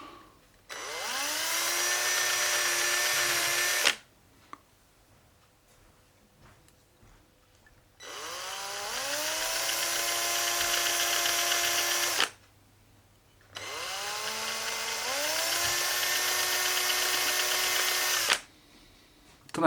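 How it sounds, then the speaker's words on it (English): Three long bursts of a high-pitched power drill whine, the drill used as a rotary grinder, each spinning up and running for several seconds, separated by short quiet pauses. "try Dremeling with the drill"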